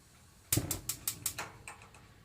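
An oven dial being switched on in a home kitchen gives a short run of about seven crisp, evenly spaced ticks that quickly fade, close and alone.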